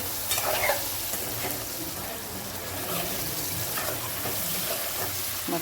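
Steady sizzling and frying of a fish curry base being sautéed in a pan, with occasional stirring scrapes, fairly quiet and continuous without talk.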